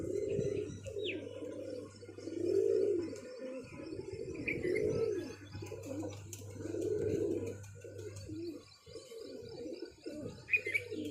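Several pigeons coo softly in soft rolling phrases, rising and fading over a faint steady hum, with a few light chirps mixed in.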